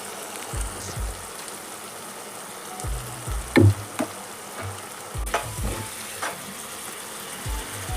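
Tomato masala for paneer gravy bubbling and sizzling softly in a pan, with a few sharp spoon clinks and taps against the pan scattered through the steady low simmer.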